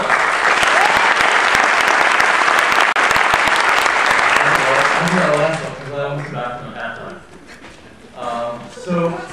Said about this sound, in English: big round of applause for Albert Honkala